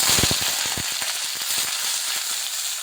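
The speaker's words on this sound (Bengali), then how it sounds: "এবার প্রথমে আমি ফুলকপিটা একটু ভেজে নিচ্ছি।" Cauliflower frying in white oil in a kadai, a bright continuous sizzle with crackling pops, loudest at the start, and no talking.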